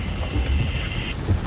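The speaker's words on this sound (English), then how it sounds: "once we start getting this nasty rain, you can't see anything." Heavy rain lashing down during a severe Florida thunderstorm, with a dense, loud hiss of downpour, gusting wind and low rumbling underneath, continuous throughout.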